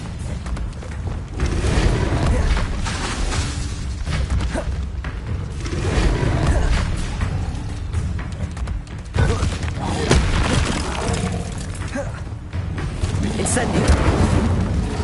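Confringo fire-blast spell exploding in the Hogwarts Legacy video game, heavy rumbling booms in a dense, continuous barrage, loud and close, mixed with game sound and a voice calling out spell names.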